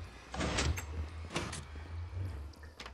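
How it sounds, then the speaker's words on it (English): Minecraft piston door on a trading ship opening, two or three quick mechanical sliding swooshes spaced about a second apart over a low steady hum, fairly close and with no talk. "This is just a piston door."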